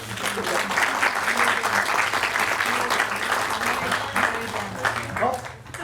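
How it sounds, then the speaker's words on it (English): An audience at a Veterans Day program applauds city council members with steady, sustained clapping lasting several seconds, moderately loud, over a faint low hum. "Let's give them a round of applause"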